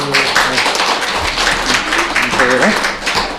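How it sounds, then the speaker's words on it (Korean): Church congregation applause, a steady wash of many hands clapping for a few seconds, with voices talking faintly beneath it. "박수 한번 해주세요"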